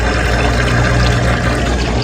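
Tap water runs continuously from a faucet whose knobs are already turned off, a steady close pouring and splashing with no pause.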